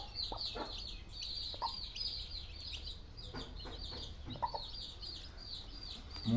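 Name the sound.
Yakut hen with newly hatched chicks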